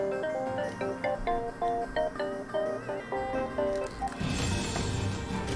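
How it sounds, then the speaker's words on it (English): A phone rings with an incoming call, playing a repeating electronic melody of short tonal phrases at steady volume. It cuts off into a burst of broadband noise near the end. "I have a phone call, just hold on a second"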